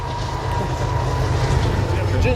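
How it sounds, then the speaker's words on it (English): A coal train rolls past, giving off a steady, continuous rumble with a faint sustained tone running through it, moderately loud and unbroken for the whole stretch. "that train was pulling old sunshine carbon, geologically made"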